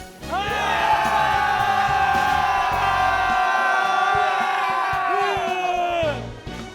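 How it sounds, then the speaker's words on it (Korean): Soldiers shouting a sustained battle cry together in the blue light before dawn, a loud, drawn-out chorus of voices holding for several seconds before breaking off into scattered calls. "마지막 힘을 모아 함성을 내며 끝까지 힘을 내봅니다"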